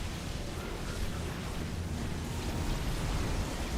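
Disruptor shots explode during a StarCraft II match, a dense, unbroken wash of broadband blasts and rumble with no clear pauses.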